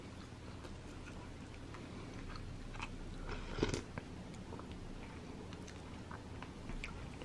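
Someone chews a mouthful of cabbage doenjang soup made with homemade soybean paste, with soft, steady crunching and biting up close and one slightly louder crunch midway; no talking.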